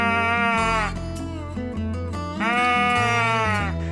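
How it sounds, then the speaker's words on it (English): Squeezin' Bleat squeeze-bellows deer call drawn out into long, elongated bleats, two sustained nasal bleats with a quieter gap between, loud and close with no talking. "You can elongate it."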